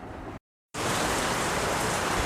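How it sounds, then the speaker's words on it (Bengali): Rain falls steadily outside, a dense close hiss broken by a brief moment of silence before resuming at full, even strength. "এখনো বৃষ্টি হচ্ছে বাইরে"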